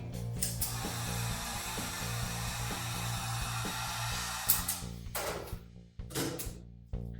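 A heat gun blows steadily on a vinyl wrap over a launcher, a constant whirring hiss with a low motor hum, followed by a few brief handling bumps at the end.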